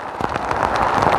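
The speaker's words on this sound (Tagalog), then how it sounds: "tumitindi naman din po mga kabayan yung ulan." Heavy rain falling in a forest, a dense, steady hiss of drops pattering on leaves and surfaces, loud and continuous with no pauses.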